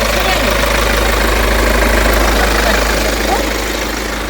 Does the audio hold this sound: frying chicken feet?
no